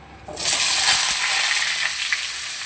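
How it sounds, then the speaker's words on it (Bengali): Sliced vegetable stems, pumpkin and potato hit a hot pan of oil in a home kitchen, setting off a sudden loud sizzle that holds steady and then eases slightly, with no talking. "যে ডাটা কুমড়ো আলুটা কেটে রেখেছি সেটাকে দিয়ে দেবো"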